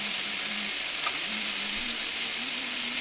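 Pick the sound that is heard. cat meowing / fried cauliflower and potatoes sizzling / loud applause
fried cauliflower and potatoes sizzling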